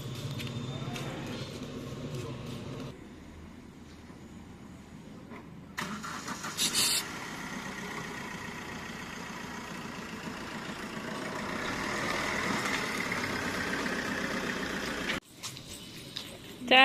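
A four-wheeler car pulls up and settles into a steady idle, its engine drone continuous and moderately close, with people talking over it and a brief clatter partway through.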